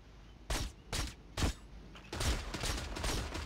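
Repeated bursts of gunfire in the video game Creative Destruction, loud and close, several separate volleys in quick irregular succession, with no talk.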